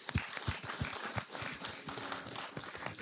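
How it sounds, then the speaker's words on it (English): Audience applause for a panel of women experts at a live discussion, irregular claps and thumps blending into a busy, moderately loud patter. "Give a round of applause for these guys on answer"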